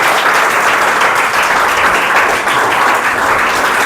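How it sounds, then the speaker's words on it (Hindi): An audience at a book launch for Class 10 science revision notes claps loudly and steadily, a dense continuous applause that holds at full strength from start to finish. "तो जोरदार तालियों के साथ में"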